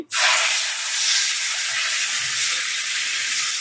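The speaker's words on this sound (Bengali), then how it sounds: "এখন আমি দুধটা ঢেলে দিচ্ছি।" Milk hits a hot pan of roasted vermicelli for doodh semai, starting with a sudden loud hiss that settles into a steady sizzling steam, close and continuous, with no voices.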